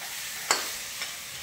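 Potatoes cook with spices in a pan, giving a soft, steady sizzle of frying broken by two scraping stirs, heard close and fairly quiet with no talk.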